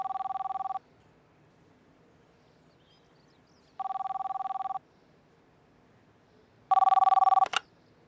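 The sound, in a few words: telephone ringing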